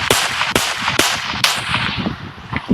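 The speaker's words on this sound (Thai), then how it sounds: "เสียงก็เสียงปืนไม่ค่อยเหมือนนะครับ" Four sharp gunshot cracks at a steady pace, each with a short ringing tail, over a busy synthetic background, from a non-official mobile version of the video game GTA 5.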